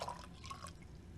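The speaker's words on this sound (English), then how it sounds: "I'm going to pour the water rather than pour it right into the bowl, I'm going to pour it into the cup" Water is poured from a cup while making homemade bread. It is a faint, brief trickle of liquid with light splashy drips, quiet and close, lasting about a second with no talk over it.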